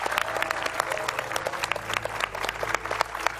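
A studio audience at an Indonesian political talk show claps steadily, dense overlapping applause filling the moment at moderate loudness with no talk over it.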